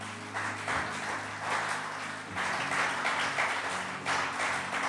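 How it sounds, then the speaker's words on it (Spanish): Church congregation at the end of a service gives a strong round of applause with no talking, dense and continuous with slight swells in intensity, accompanied by a low sustained musical tone underneath. "nos despedimos con un fuerte aplauso a Jesús"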